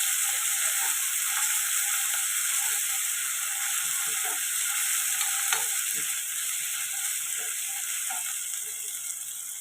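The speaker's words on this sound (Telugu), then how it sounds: "ఇది కూడా పచ్చివాసన పోయేదాకా ఫ్రై చేసుకోవాలండి." Ginger garlic paste frying in a pan gives a steady, fairly quiet hiss and sizzle, broken by irregular soft scraping and clicking taps from stirring.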